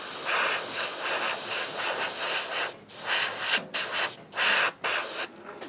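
Hataka Red Line paint is sprayed onto a surface as another coat, a steady close hiss broken by several short pauses toward the end.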